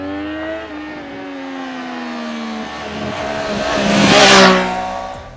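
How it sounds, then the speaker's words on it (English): Exhaust note of a Triumph Street Triple 765 motorcycle with an updated engine, single catalytic converter and freer flowing exhaust: a steady mid-range drone that climbs in pitch and swells to a loud rev peak before easing off. "A single catalytic converter and a freer flowing exhaust help the updated engine breathe better and produce an even better exhaust note."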